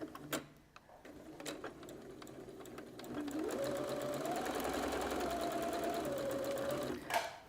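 A sewing machine runs a normal 2.5 mm stitch to join fabric pieces, starting after a few light clicks and handling sounds and then whirring steadily for about four seconds before stopping with a small clunk.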